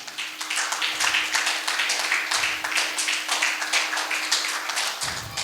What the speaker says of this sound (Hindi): जोरदार तालियों के गड़गड़ाहट के बीच।